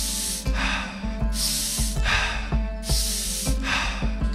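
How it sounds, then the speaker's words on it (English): Energizing breathwork filling belly and chest, with sharp rhythmic inhales through the nose and forceful exhales out the mouth, about eight quick breath cycles close and loud. "The breathing style will be belly, chest out, in through the nose, out through the mouth."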